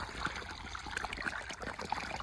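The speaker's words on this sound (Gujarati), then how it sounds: "જો બોરનું પાણી છે એટલે આટલું આવે" Borewell water trickling from a pipe on a farm, a faint continuous dribble and splash heard close by without any talk.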